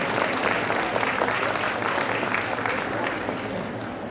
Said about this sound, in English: So big round of applause for him and the organizing team.